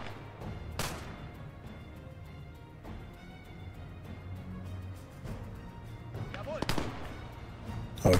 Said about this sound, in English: Artillery on this position.